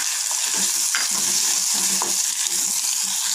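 Chopped ridge gourd and green chillies frying together in oil in a pan for chutney, a continuous crackling sizzle broken by soft stirring scrapes and a few sharp pops, close and steady with no voices.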